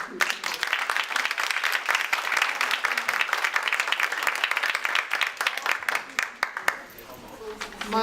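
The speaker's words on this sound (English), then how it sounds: "Let's give a round of applause for these two." An audience at a district court judge candidate forum claps for the two candidates, a dense sustained round of applause that thins out near the end as a voice begins to speak.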